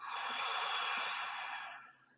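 A single long inhale through the nose during a guided breathing exercise, a close, soft airy hiss that swells, holds for nearly two seconds, then fades out.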